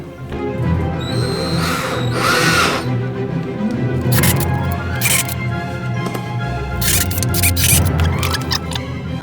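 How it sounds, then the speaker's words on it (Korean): A power drill fitted with a cross-head bit bores a hole while building a movable TV stand, with a loud whirring rising and falling in close bursts over steady background noise. "요만큼의 구멍의 두께에 맞춰서 구멍을 뚫어줘야 됩니다"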